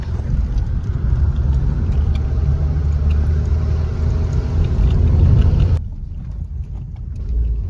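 A car's engine hums with a steady, close rumble as it drives along a road between Mumbai and Ratnagiri. The drone is loud and unbroken for most of the stretch, then drops suddenly to a quieter rumble near the end.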